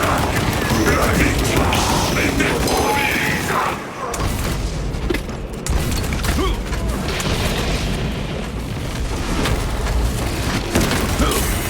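Gunfire and heavy booms from the video game Warhammer 40,000: Space Marine 2, dense bursts and explosions running continuously, with players shouting and talking over the combat.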